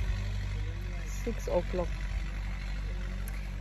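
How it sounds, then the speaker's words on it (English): A tractor engine idles with a steady low rumble in a rain-soaked field in rural Namibia, running continuously beneath a voice. "The tractor has started."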